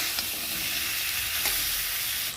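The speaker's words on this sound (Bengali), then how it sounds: "বেগুন আর আলু মশলার সাথে ভালোভাবে কষিয়ে নেব।" Brinjal strips and potato are sautéed in oil with masala, giving a continuous close sizzle with occasional soft stirring scrapes and no voices.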